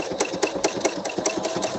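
A sewing machine stitches with its needle down but the presser foot left up, giving a rapid, even mechanical clatter of evenly spaced needle strokes, close and continuous.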